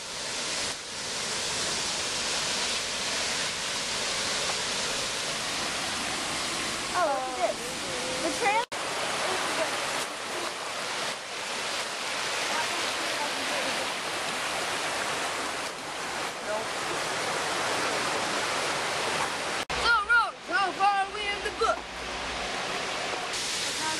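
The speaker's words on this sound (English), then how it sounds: "River." A river rushes in a steady, dense wash of broadband noise that fills the whole stretch, with a few faint bumps and handling knocks near the end and a brief voice.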